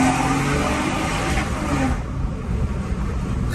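A car engine with a leaking exhaust revs loudly close by, a raspy, roaring drone that eases after the first couple of seconds and continues as a rougher, lower rumble.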